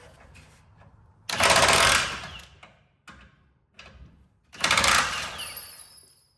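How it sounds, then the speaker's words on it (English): Metal washers and rings tumble loose from a removed traction bar on a 1988–91 Honda Civic/CRX, two loud jangling metallic bursts of clatter and rattling separated by a few smaller clinks, close by. "all those rings fell out like Sonic the Hedgehog. All these washers."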